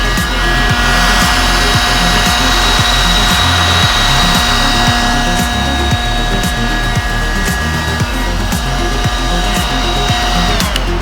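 A Yugmi electric vacuum head lice comb runs in a loud, steady motorized whine with a rapid rhythmic buzzing pulse underneath, close and continuous with no talking.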